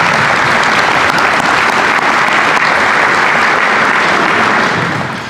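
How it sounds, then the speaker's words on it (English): Loud, sustained applause from a banquet audience at a high school athletic hall of fame dinner, honoring the Windmill Grill caterers, steady dense clapping for about five seconds before tapering off at the end. "Let's give Windmill Grill a round of applause."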